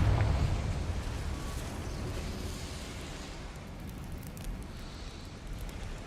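Confringo explosion spell in Hogwarts Legacy, a burst at the start that fades into a low, rumbling, fiery roar, fairly quiet and heard alone.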